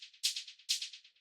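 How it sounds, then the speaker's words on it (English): A techno shaker playing on the upbeats, its bright, crisp rattles repeating in a quick steady pulse with two stronger accents, close and alone. "this shaker, which is playing on the upbeats"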